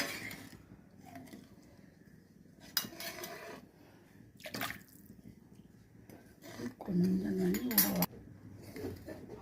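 A ladle stirs tamarind water into a pot of pomfret fish curry, giving irregular metallic scrapes and clinks against the pot that swell into a louder, busier stretch of stirring before easing off.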